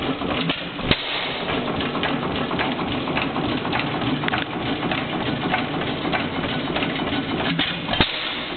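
A 6 hp Racine Sta-Rite gas engine runs steadily, a continuous mechanical chatter with an even rapid rhythm and a couple of sharper knocks, heard fairly close with no talking.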